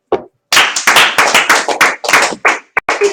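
Sharp hand claps ring out close and loud in an uneven series after a single opening clap, with no voices.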